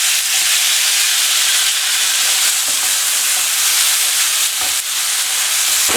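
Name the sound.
apples cooking in a pan with cinnamon for apple cake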